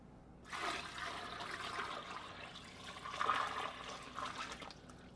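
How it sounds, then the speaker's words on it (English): Water runs from a tap into a pot for onion stock in a steady, fairly close rushing stream, swelling slightly midway, with no talking. "I'm going to add more water"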